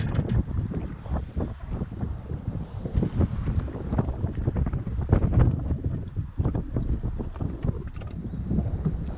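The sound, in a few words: wind blowing on the microphone while fishing from a boat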